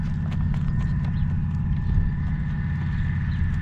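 Horse hooves thud during a hitching session in gale-force wind, the footfalls mixed into a loud, constant rumble of wind.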